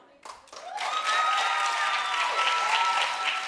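A television game-show studio audience breaks into loud, sustained clapping that swells after a brief start and keeps going, with cheering and whoops mixed in.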